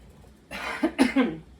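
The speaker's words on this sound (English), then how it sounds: "Does kind of make you cough." A short burst of coughing from lye fumes while making lye water, two or three harsh coughs close up after a breath, with a throaty rasp.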